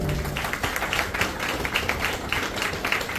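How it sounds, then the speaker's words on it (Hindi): Audience applause at a senior trainers' conference hall in Jharkhand welcoming a speaker to the stage, moderate continuous clapping from a seated crowd, fairly even with slight swells. "जोरदार ताली से उनका स्वागत है।"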